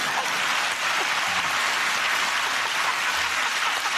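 A television studio audience at a comedy panel show claps in a dense, sustained round of applause that stays loud and even throughout, with no voice over it.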